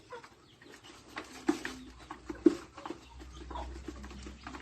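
Purebred laying hens cluck softly and intermittently nearby, with scattered short calls and a low rumble in the background.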